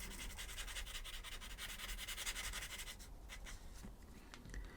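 A Posca paint marker drawing on paper, cutting in along the edge of a Halloween pumpkin drawing with steady scratchy strokes down and back up, close and continuous with no talking.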